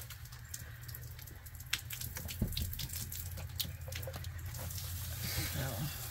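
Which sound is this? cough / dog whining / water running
water running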